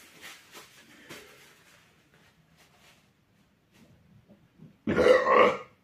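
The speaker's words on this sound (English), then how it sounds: "I burp." One loud, close burp erupts after some quiet rustling and faint handling noises, lasting about a second and standing alone without talk.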